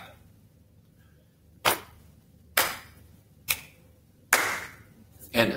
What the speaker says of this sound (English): And I'm gonna do pat, clap, snap, tap.